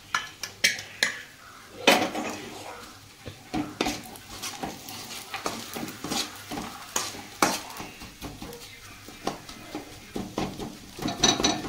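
Spoon stirring fried cashews and raisins into bread halwa in a pan, with rapid, repeated metallic scrapes and clanks against the pan over a light sizzle, close and busy throughout.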